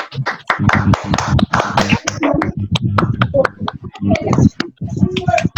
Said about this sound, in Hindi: एक जोरदार तालियों से हम सबों का थैंक्स करें